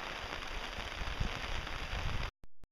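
Steady rain patters down outdoors, a dense broadband hiss that holds loud and even for about two seconds, then cuts off abruptly, leaving near silence with one brief burst of noise.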